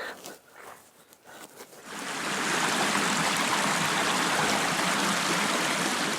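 Creek water rushes steadily at close range along the Manistee River Trail, a dense continuous flow that starts quieter with some handling noise, then swells to a full, even wash for most of the clip.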